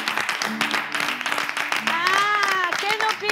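Applause from an audience rises under steady speech and music-like tones, a dense patter of clapping running through most of the short stretch.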